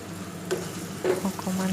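Onions sizzle and crackle in a hot pan, a steady frying hiss with brief stirring scrapes and clinks close by.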